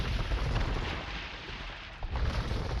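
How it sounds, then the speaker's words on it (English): In an Age of Empires II free-for-all naval battle, demolition ships detonate as a dense rumble of overlapping explosions and gunfire-like bursts, a continuous muffled barrage with a sharper pop near the end. "maybe get some big explosions"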